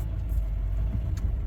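A Chevy truck drives slowly up an angled trailer supported by airbags, its engine giving a steady, close, low rumble with no talking.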